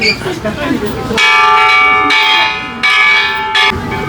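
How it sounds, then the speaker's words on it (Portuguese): A metal peace bell at the Hiroshima Children's Peace Memorial is struck three times, each loud ringing strike followed by a long shimmering decay, with brief outdoor voices and ambience before the first hit. "Então quem bate o sino indica que é a paz do mundo. Então eu vou bater o sino aqui."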